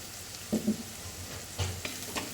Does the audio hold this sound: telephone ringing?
no